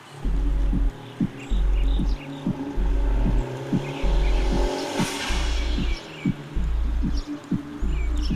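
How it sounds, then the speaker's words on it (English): A Honda Type R fitted with an ARK Performance DT-S exhaust with burnt tips downshifts, producing a run of pulsing, throaty low exhaust bursts that rise and fall in quick succession. "Did you hear me downshift?"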